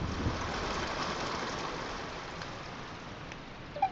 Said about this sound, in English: let me put some rain over the fields to grow more of the field